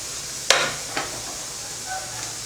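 Dried turkey berries (sundakkai vathal) drop into hot oil, a sharp burst of sizzle followed by a fading hiss and a second smaller crackle, close and with no talking.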